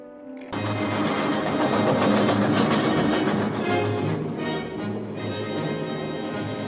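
Steady rumbling roll of a train carriage travelling, close and loud, carrying German soldiers and escaped prisoners of war in a wartime film, a continuous dense clatter with no speech.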